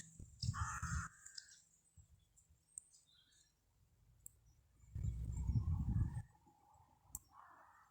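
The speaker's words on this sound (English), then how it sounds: "or the caw of a crow" A crow caws in short harsh bursts, a couple of times, against a quiet outdoor background with faint wind.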